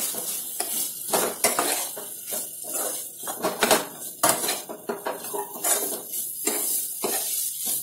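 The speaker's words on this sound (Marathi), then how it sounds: "आता याला व्यवस्थित आपण मिक्स करून घेऊया" Vegetables for Maggi noodles tossed in a pan, with continuous close spatula scraping and clanking against the metal over a steady sizzle.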